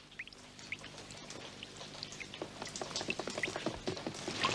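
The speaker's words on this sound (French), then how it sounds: "Il pleut des trompes d'eau. Oui, c'est une belle averse." Heavy rain pours down in a dense patter of splashing drops that grows louder and busier, with no voices.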